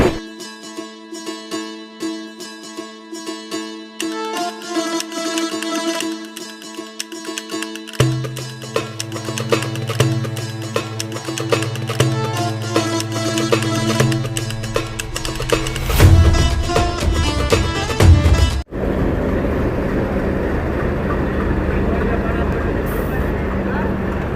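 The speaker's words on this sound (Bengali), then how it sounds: "আমাদের ট্রেনটি সুলতানপুর জংশন স্টেশন থেকে ছেড়ে দিল" A passenger train rolls out of Sultanpur Junction, its steady rumble and rattling rail noise building under loud nearby announcements or talk, then a sharp cut to a more even, muffled running sound inside the carriage.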